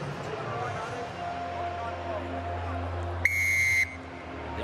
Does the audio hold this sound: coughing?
no